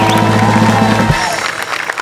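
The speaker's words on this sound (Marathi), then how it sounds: "त्यांच्यासाठी सुद्धा एकदा जोरदार टाळ्या." Studio audience at a Marathi television comedy show breaks into loud applause and cheering, rising out of music at the start and filling the rest of the clip.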